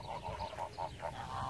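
Homestead ducks and geese give a short run of nasal honks and quacks, faint and slightly distant, lasting under two seconds.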